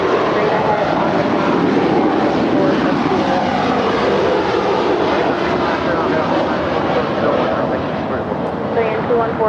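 A Boeing Dreamliner jet taxiing at LAX gives off a loud, continuous engine roar and rumble that holds steady throughout, with voices talking over the top.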